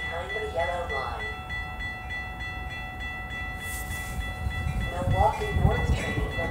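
A commuter train arrives at Northbrook station during the evening rush hour, rumbling low and steadily beneath a station announcement voice and tonal chimes, growing louder toward the end.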